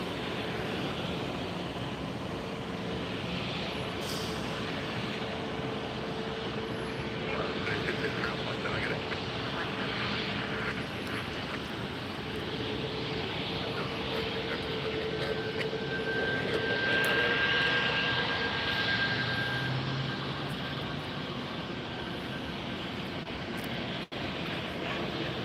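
Alaska Airlines airliner at Tampa Airport, a sustained jet engine rumble with a faint tonal whine that swells slightly midway, fairly distant, with a voice talking at times.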